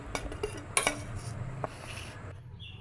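Food being moved onto an oiled plate brings a few light clinks and scrapes of a utensil against the dish, a sharper knock near the start, then quieter shuffling that fades out.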